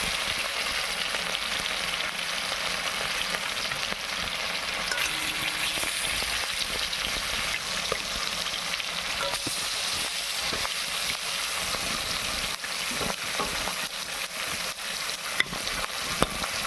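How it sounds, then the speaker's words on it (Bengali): Pieces of rohu fish fry in hot oil in a pan. A steady, dense sizzle crackles continuously with occasional stirring and clinks, close up, with no speech. "এখন এর মধ্যে দিয়ে দেব এক এক করে সমস্ত মাছটা দিয়ে খুব ভালো করে ভেজে নেব"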